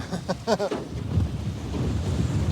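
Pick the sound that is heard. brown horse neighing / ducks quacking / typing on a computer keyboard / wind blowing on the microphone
wind blowing on the microphone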